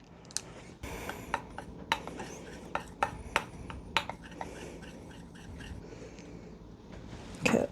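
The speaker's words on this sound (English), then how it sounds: "I'm going to throw in a few more chocolate chips and give that a stir" Chocolate chips being stirred into melted chocolate for coating strawberries, a quiet session of scattered light taps and scrapes of a utensil against the bowl at an irregular rhythm, close and soft.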